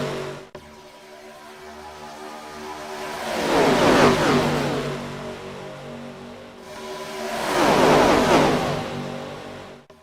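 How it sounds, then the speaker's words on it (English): NASCAR stock cars at full throttle around Daytona in the iRacing sim, a pack roaring past in two long swelling drive-bys that rise loud and fade, engines droning steadily in between, no voices. "it would not be Daytona without hearing these cars at full song"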